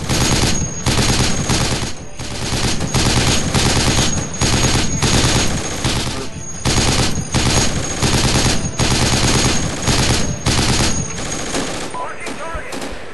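Sustained automatic gunfire in the tactical shooter Project Reality, loud rapid bursts of rifle and machine-gun fire with brief gaps, close and dominant throughout before tapering at the end.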